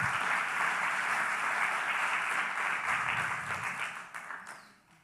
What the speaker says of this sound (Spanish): ¿Qué tal si le damos otro aplauso?